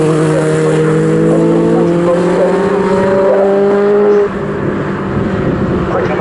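Legends racing cars at the Snetterton circuit in a National Championship heat: several engines drone loudly with rising and falling pitch while a commentator talks over them.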